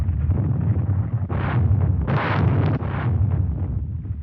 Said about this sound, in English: the mounting air bombardment was supplemented by strong naval fire against the beaches